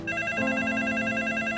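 A telephone rings with a steady electronic bell tone, close and fairly loud, sounding alone for a short burst indoors.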